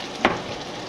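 Tofu sizzles and fries in a pan, a close, steady hiss with one brief stir or clatter in the middle.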